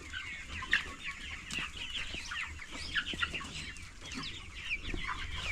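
Young improved Kienyeji chicks on a farm keep up a busy, overlapping chorus of high peeping and soft clucking, with a few louder calls rising out of the flock, close and steady throughout.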